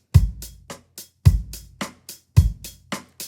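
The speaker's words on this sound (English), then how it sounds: "Listen to this bass line." A bass plays a tresillo rhythm in repeating 3-3-2 groupings, with deep, punchy plucked notes that fall into a clear syncopated pattern, played alone and close.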